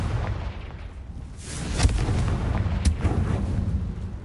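A Confringo blasting spell in the game Hogwarts Legacy on PS5 sets off explosive booms, with a sharp burst followed about a second later by another, each trailing into a rumbling wash.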